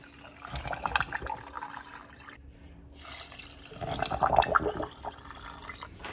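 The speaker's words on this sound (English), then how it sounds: "Now we're gonna add some beef broth." Beef broth pours into a pot over browned ground beef, a steady liquid splash and trickle that pauses briefly, then resumes, close by with faint background noise.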